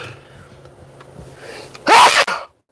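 A single loud, sharp sneeze bursts out after a moment of quiet room noise, followed by a brief breathy tail.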